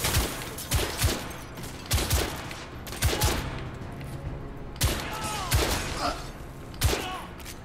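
Gunfire in the video game The Order: 1886: repeated sharp shots in short clusters, loud and punchy against a quieter background, some closely spaced in quick volleys.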